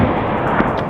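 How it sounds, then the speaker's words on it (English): A gunshot from a wild boar hunt rolls across a hillside as a loud, dense, rumbling roar that fills the whole second, with faint sharper cracks within the sustained echo. "another sharp gunshot cracked through the air, echoing across the hillside"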